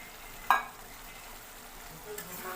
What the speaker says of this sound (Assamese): মাংসখিনি দি আৰু অলপ ভাজিম।